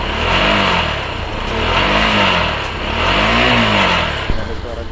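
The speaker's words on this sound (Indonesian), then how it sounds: "Ada suara getar dari dalam knalpotnya." A Bajaj Pulsar 200NS motorcycle engine revs through its exhaust in loud, close, rising and falling waves, with a rattling vibration audible from inside the muffler.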